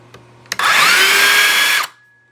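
A DeWalt DCS566 cordless circular saw clicks, then spins up to a loud high whine, runs for just over a second and cuts off sharply as it winds down.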